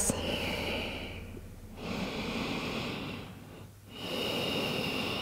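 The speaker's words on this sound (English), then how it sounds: "And take a few breaths." Slow, deep breaths drawn in and released while resting in child's pose during a yoga session, two long swelling inhales and exhales close and soft with no talking.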